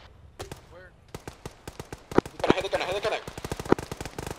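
Rapid bursts of automatic gunfire in the military shooter game ArmA 3, sharp repeated cracks in quick succession, loud and close, with people talking over the shots.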